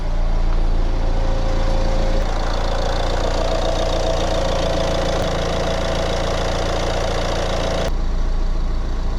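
A Nissan Qashqai J11 1.6 dCi diesel engine idles just after a fuel filter replacement, with a steady, close, continuous rumble and a faint metallic knock running the full length and no voices.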